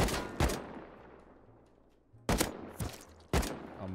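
Gunfire in the survival video game Rust: one shot with a long decaying tail, then after a quiet gap three more sharp reports spaced about half a second apart, loud and close with no talking over them.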